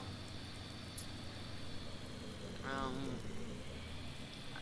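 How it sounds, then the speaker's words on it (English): Rain falls on a small dairy farm on the US west coast as a faint, even patter in the background. A short, wavering tonal call rises briefly partway through. "see if the rain goes away"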